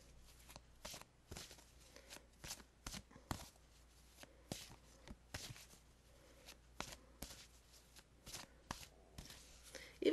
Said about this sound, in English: we'll shuffle and see what the romance cards have to say